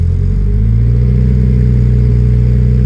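A straight-piped car engine held at 2,000 RPM for a decibel test in New York City, a loud, close, steady droning rumble with no talk over it.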